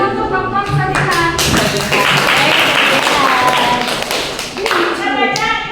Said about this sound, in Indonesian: Tepuk tangan untuk Kompon Sajikan.